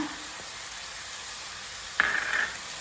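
Vegetables such as cabbage and coloured bell peppers fry in a pan over medium-high heat, a steady soft sizzle throughout with a brief louder hiss burst partway through as they are stirred.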